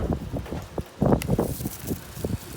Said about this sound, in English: it is crazy windy, but I'm making it work